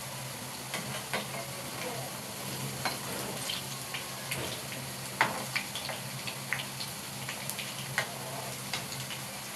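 Soybean pieces shaped like vegetarian hilsa fish fry in a pan, giving a steady close sizzle with scattered clicks and scrapes of turning, with no voices.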